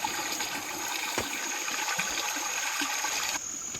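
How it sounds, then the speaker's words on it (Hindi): Water pours steadily from an ancient village spring in a hill farming area, a continuous near splashing rush with faint birdsong above it. "हमारे गांव का जो है पौराणिक जल स्रोत पंजेरा, और आजकल इसमें पानी है"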